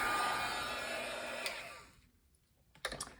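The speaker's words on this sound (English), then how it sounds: "I'm going to turn on my heat tool and just let it go." An embossing heat tool blows hot air in a steady, fairly loud whoosh that fades out after about two seconds, followed by a few faint clicks.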